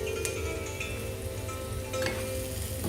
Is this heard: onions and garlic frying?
yes